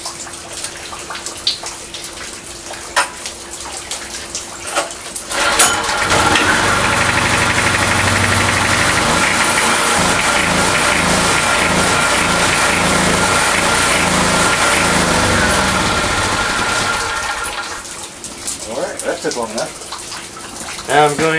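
A small gasoline engine with its fuel line removed starts and runs dry outdoors in the rain, a loud steady buzzing drone for about twelve seconds before it dies away, with quieter rain or water noise before and after.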